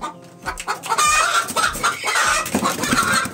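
Desi hens on a farm clucking busily close by, one laying an egg, overlapping bursts of clucks and squawks from several birds with no talking.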